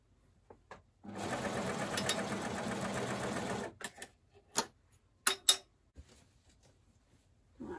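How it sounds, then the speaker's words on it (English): An overlock serger neatens fabric seams on a full-length velvet coat, running in one fast, steady buzzing burst of about three seconds before stopping, followed by scattered handling clicks. "let's get these seams just neatened on the overlock"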